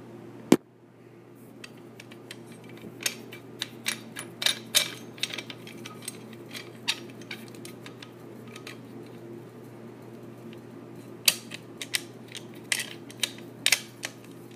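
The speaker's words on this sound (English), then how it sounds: "So I'll go ahead and show you how to get this thing all prepared to be in shovel form." A FIVEJOY C1 folding backcountry shovel is assembled, giving sparse metallic clicks and clacks of parts seating and notches engaging, irregular and close against a quiet low hum.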